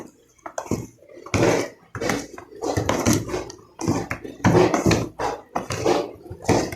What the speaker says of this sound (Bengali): মাছটা মাখিয়ে নেব।